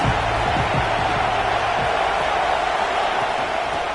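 Football stadium crowd roaring steadily against the offense during a game with Alabama, a dense continuous wash of voices at constant loudness with a few low rumbles early on.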